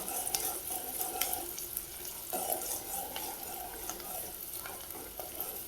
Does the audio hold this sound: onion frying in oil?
yes